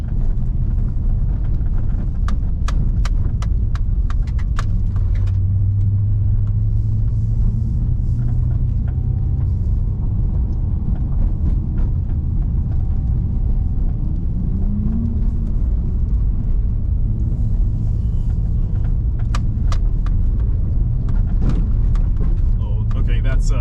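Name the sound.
race car engine in the video game Autosport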